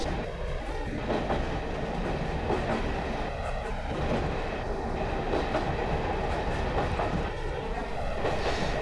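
A train runs steadily along the rails approaching a rural station past farm sidings, a continuous rumble with faint rhythmic wheel clatter, moderately distant and unbroken for the whole stretch.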